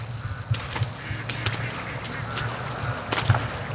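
Outdoor ducks call in short, raspy, repeated honks and quacks at moderate distance over steady background noise, with a Muscovy duck among them near water by a lake.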